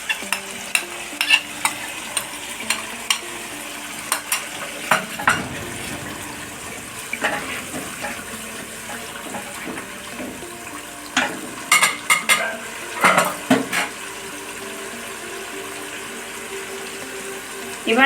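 Tomato paste blended with fried cashew and onion is added to a pan for chicken kofta curry, giving soft sizzling with repeated sharp clinks and scrapes of stirring and a brief pouring rush mid-way.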